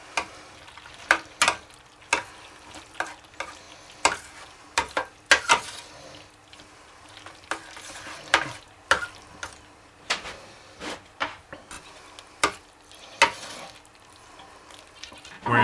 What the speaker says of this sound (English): going to add it to the cheese sauce. And we're going to mix it all together.